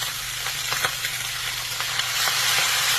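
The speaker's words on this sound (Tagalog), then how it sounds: "Semi-prito ang gagawin natin dyan." Pork sizzles and spatters steadily in hot oil in a wok, a dense crackling hiss with occasional pops, up close and uninterrupted.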